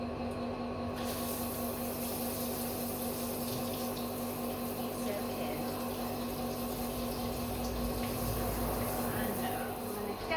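Water runs steadily from a shower while a dog is washed in a hydrotherapy setting. The spray is continuous and close, with voices talking over it.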